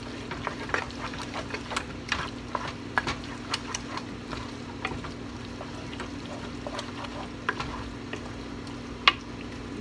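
A cheesy corn mixture made with homemade cheese is stirred by hand, giving a steady run of soft scraping and irregular light clicks and knocks against the bowl, close by with no talking.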